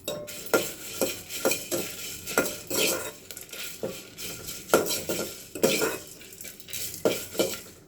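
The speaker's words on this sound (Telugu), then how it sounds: "ఇప్పుడు వేయించుతున్నాను ఎండుమిరపకాయలు" Dried red chillies, coriander seeds and fenugreek dry-roasted in a pan, a spatula repeatedly scraping and clattering against the metal in an uneven rhythm, close and fairly loud, with no talking.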